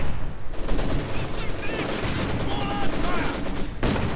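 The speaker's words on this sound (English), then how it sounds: "Taking sniper fire." Sniper and mortar gunfire in the Company of Heroes 2 strategy game: dense, continuous battle noise with repeated shots and blasts, while a commentator talks over it throughout.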